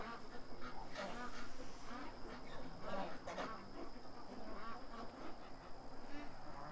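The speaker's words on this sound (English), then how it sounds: "She'll quack her head off" A pet duck named Stripper quacks loudly and repeatedly in rapid bursts, close up, with faint voices in the background.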